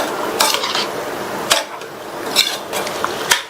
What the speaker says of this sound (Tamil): வெள்ளக்கரைசல் சேர்த்துட்டு சிம்லயே வச்சு ஒரு 2 நிமிஷத்துக்கு மட்டும் இதை மாதிரி கிண்டி கொடுங்க